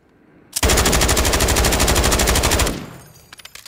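An MG4A3 machine gun in Call of Duty Modern Warfare III fires one loud, continuous burst lasting about two seconds, its rapid even shots packed tightly together, then the sound cuts off and a few faint clinks and rattles follow.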